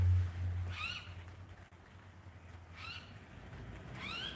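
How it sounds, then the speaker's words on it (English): Birds call in a garden, three short shrill squawks spaced a second or two apart, moderately distant over a low steady hum, with no one talking. "Listen to those effing birds"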